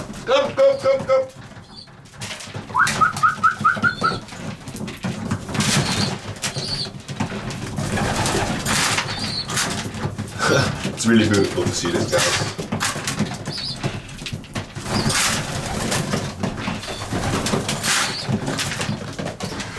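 Racing pigeons coo steadily while pecking food off the ground in their loft, soft repeated calls with a door sliding shut and a voice speaking over them near the mic.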